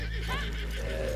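A horse whinnies in Red Dead Redemption 2, a short wavering neigh heard fairly close under a low steady game hum, with some talk mixed in alongside it.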